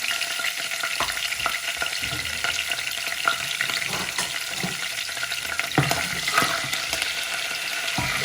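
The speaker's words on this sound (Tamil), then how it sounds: "சீரகம் போட்டுட்டு அதோட கருவேப்பிலையும்" Cumin seeds and curry leaves crackle in hot oil for a Tamil stingray fish curry, a dense close sizzle with scattered pops and a few stirring scrapes, no talk.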